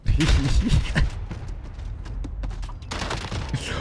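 Rapid hip-fire bursts of automatic gunfire in Warzone, loud and close, with dense overlapping shots strongest at the start and again near the end, no talk.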